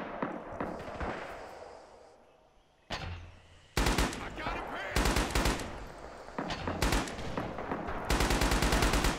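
M1918 BAR automatic rifle fire in the video game Rising Storm: loud bursts of rapid automatic gunfire, with a brief lull, then repeated close bursts and distant shots, with faint voices underneath.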